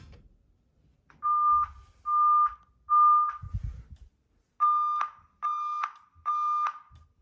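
A fire alarm speaker powered up for a demonstration sounds its signal three times as sustained tones, then three more in shorter, louder bursts, with a thump between the sets.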